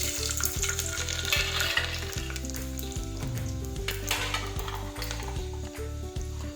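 Mustard seeds, cumin and chopped garlic sizzle steadily in hot oil while cooking guvar and potato shak, a loud, continuous crackling fry with no voices.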